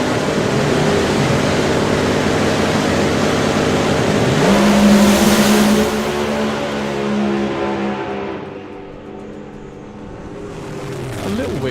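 A doorslammer drag racing car with a 7-speed transmission roars loudly. The engine tone holds high, then swells, and finally drops away as it moves off.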